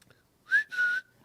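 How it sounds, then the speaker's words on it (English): A man whistles two short tones close by, a brief rising note followed by a slightly longer steady one, clear against near silence. "I can do like a bunch of whistles."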